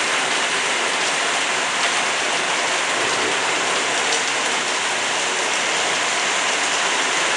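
Heavy rain pours down onto a roof with a leaking gutter in a dense, unbroken roar, loud and steady throughout with no voices.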